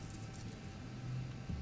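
In the video game Life Is Strange, a bunch of keys jangles faintly in a short burst of metallic rattling over a low, steady background.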